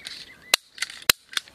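A staple gun fires three sharp, loud snaps about half a second apart, with faint rustling between shots and no talking.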